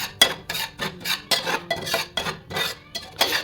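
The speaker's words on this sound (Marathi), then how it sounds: "व्यवस्थित असं ढवळून घ्यायचं आहे आणि थोडं चॉकलेटी झालं पाहिजे" Semolina roasting in a pan for rava sheera, stirred with a metal spoon in about ten regular scraping strokes, each a short bright rasp against the pan, close and clear.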